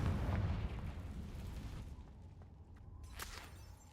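A Confringo spell explosion in the video game Hogwarts Legacy, a deep rumbling boom that starts strong and fades into a lingering low roar, with a faint sharp crack near the end and no talk.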